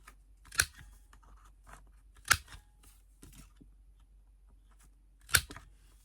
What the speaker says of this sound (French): Je viens aussi couper les angles du deuxième morceau.